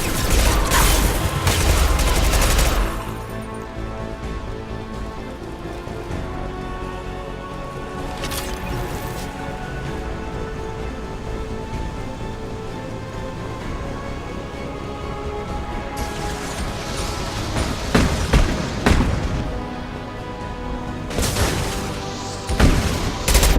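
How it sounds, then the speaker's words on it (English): Heavy gunfire in Mass Effect 2, with sustained bursts and rapid shots rolling across the whole stretch. The loudest volleys come at the start and again near the end, over a constant battle din. "Taking heavy fire!"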